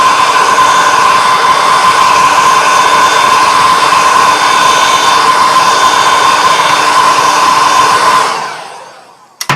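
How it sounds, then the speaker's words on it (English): Heat gun blowing hot air while reflowing solder around motherboard components, a loud constant whooshing hiss that holds steady for several seconds, then cuts off and winds down with a short clatter at the end. "I'll take my heat gun."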